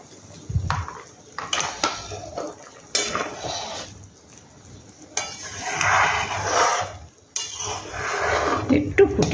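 Fried pakoras dropped into simmering kadhi in a pot bring clattering clinks of a utensil against the pot in several bursts, with bubbling and stirring noises between them, close and moderately loud.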